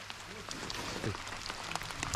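Rain falling steadily at an outdoor carp fishing spot, a continuous broadband patter of drops on surfaces that sounds close and fairly dense, with a brief voice-like murmur partway through.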